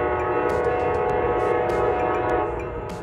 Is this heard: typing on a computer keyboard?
no